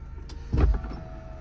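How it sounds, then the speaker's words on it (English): Electric windows on a 2014 Audi A5 1.8 S Line convertible motor downward in one short whirring drop, close and clear inside the car, with no one talking. "windows drop"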